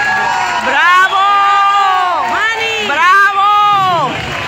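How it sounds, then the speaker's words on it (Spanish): A carnival concert crowd in Puerto del Carmen, Lanzarote, cheers loudly with rising whoops and shouts over a dense bed of clapping and crowd noise, continuous throughout. "Gracias nuevamente por esos aplausos."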